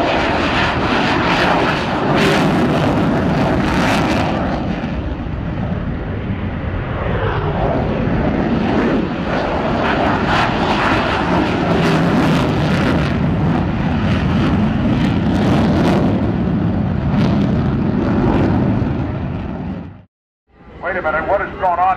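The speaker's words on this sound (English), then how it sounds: "Moving the airplanes out as we have a couple of more Tomcats taking off." F-14 Tomcat fighter jets taking off at Naval Air Station Oceana, a loud, sustained engine roar that holds steady for about twenty seconds before cutting out briefly, with a voice talking over it.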